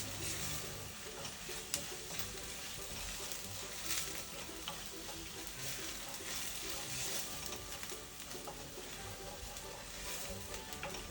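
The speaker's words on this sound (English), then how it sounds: "And we're going to stir this." Spices including dried thyme, curry powder and salt being stirred into jollof pasta in a pan, a steady soft scraping and sizzling texture running continuously without talk.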